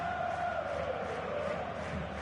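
A stadium crowd in a football video game roars steadily as the home team's players walk onto the pitch, a dense, continuous wash of cheering with faint chanting swells, no clear voices above it.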